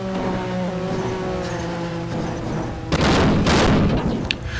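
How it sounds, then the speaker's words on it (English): Race car crash during the 1986 Japan GP, rainy conditions: a steady engine drone gives way to a sudden loud burst of broadband impact noise and crunching that lasts about two seconds. "Oh, big crash."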